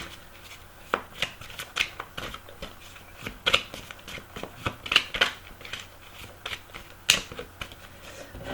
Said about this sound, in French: Je vais les laisser là et je vais poser les cartes dessus.